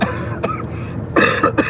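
A person coughs inside a car during a late-night drive to work, with one short cough followed by a harsher, longer burst of two or three coughs, close and loud.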